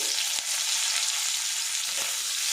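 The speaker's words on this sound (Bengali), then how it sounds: "পেঁয়াজটা আমি ভাজা করে নেব।" Chopped onion fries in a pan with a dense, steady hiss and crackle up close, broken by a couple of brief stirring scrapes, with no voices.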